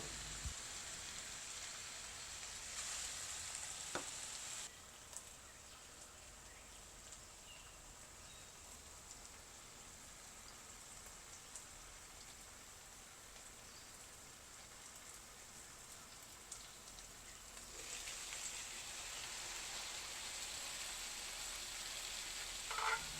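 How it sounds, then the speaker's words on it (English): Meatballs and vegetables frying in oil in a pan, a steady soft sizzle and crackle throughout, fairly quiet and unbroken with no talking. "We wait until the meatballs are nicely fried and the veggies are steamed through in the pan, getting a light saute with some oil."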